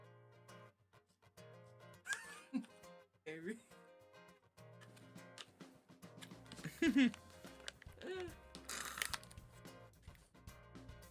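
A cat meows several times in short, separate bursts spread across the stretch, with a rumbling background and some human voice or movement noise mixed in.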